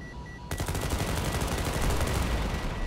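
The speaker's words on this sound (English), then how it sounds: "What are you shooting your gun off the side for?" Sustained automatic gunfire in Planetside 2 erupts after a brief lull and keeps going in a rapid, dense stream of shots, fairly close and steady to the end.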